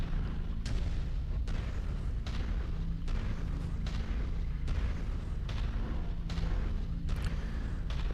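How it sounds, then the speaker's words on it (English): LRM missiles launched from a mech in the MechWarrior video game: repeated heavy booming salvos at roughly regular intervals over a constant low engine rumble, loud and continuous. "let's get a bit closer into a sensor range, so we could shoot some more LRMs"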